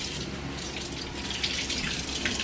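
Asparagus spears rinsed under a kitchen tap, a steady, fairly loud rush of running water splashing continuously into a sink with no talking.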